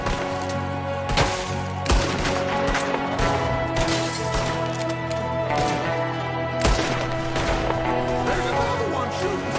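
Gunfire from a window in a Red Dead Redemption 2 shootout, with sharp, loud shots cracking out at irregular intervals over a sustained musical and ambient game soundtrack.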